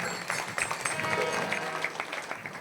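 Applause from an audience at a devotional kirtan gathering, a steady, fairly faint patter of many hands clapping continuously.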